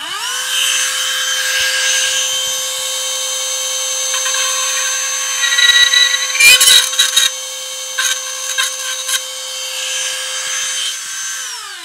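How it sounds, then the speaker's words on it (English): Dremel rotary tool drilling a hole for an LED in a model room: a steady, close, high-pitched motor whine runs throughout, with rougher grinding bursts in the middle as the bit cuts into plastic. "So I'm going to use my Dremel with the bit that is the same size as"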